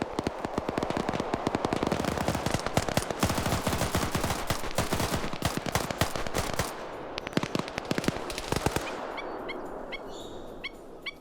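Rapid bursts of automatic machine gun fire in the online PvP shooter game, dense sharp cracks in long sustained volleys, then thinning into scattered shots with faint distant tones near the end.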